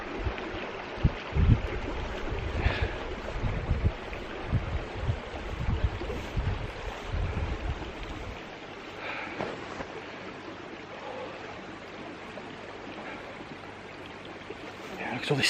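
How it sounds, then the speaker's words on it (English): Stream water flowing steadily near an old railway on a sunny walk up toward a reservoir in the Scottish Borders, a close, continuous rushing babble with a few louder thumps early on. "Beautiful sound of the water."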